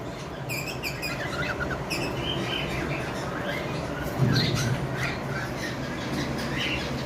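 Lovebirds at a breeding farm squawk and chirp repeatedly in their cage, sharp close calls over a steady background hum.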